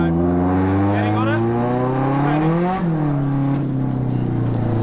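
A car engine held steady on the throttle through a drift, its loud, sustained drone rising in pitch, briefly dipping, then settling into a steady lower note, with some tire noise.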